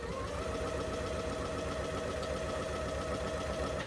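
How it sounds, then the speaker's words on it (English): A sewing machine runs steadily, stitching a quarter inch seam down the side of a spring placemat, with a continuous even motor hum and fast needle rhythm, moderately quiet and alone. "And we're just going to sew down that side."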